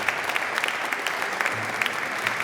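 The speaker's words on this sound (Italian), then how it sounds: "lo accogliamo sempre con un applauso" An Italian audience at a sand nativity concert event in Jesolo welcomes the deputy mayor with steady, dense applause from a sizable crowd filling the space evenly throughout.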